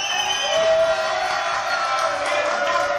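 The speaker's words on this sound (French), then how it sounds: "Allez, on l'applaudit." A studio audience at a French television news-comedy show breaks into loud, sustained cheering and applause, a dense crowd roar with whoops that holds steady throughout.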